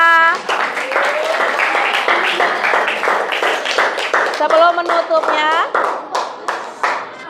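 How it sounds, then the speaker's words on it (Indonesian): A classroom of students claps in rhythmic bursts while children's voices chant and shout along, loud and close, with repeated patterned clapping throughout. "Tepuk tangan untuk kalian semua."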